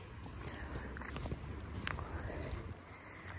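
A donkey chewing close by, a steady soft crunching and grinding with occasional sharper bites over a low outdoor rumble, with no talking.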